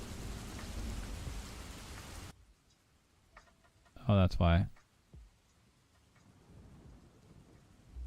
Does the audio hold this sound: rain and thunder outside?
yes